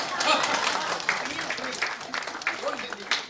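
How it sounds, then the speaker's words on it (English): Audience applause at a book launch event, a steady wash of clapping from a crowd that carries for a few seconds with scattered louder claps, some voices mixed in. "Please clap."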